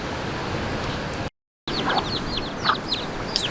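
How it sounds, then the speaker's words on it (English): Chickens clucking and calling outdoors on a tropical island, several short bright calls repeating over steady background noise, with a brief dropout of silence early on. "so we got some chickens over here"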